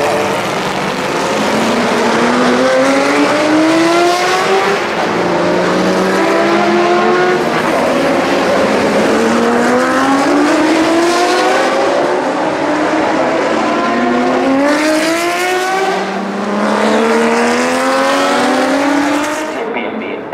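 Historic race car engines roar continuously at the Norisring street circuit, pitch rising and falling as cars sweep past one after another, loud and close throughout.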